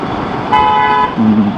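A vehicle horn on a road gives two short, loud honks close by, a higher-pitched toot followed quickly by a lower one, with no talking.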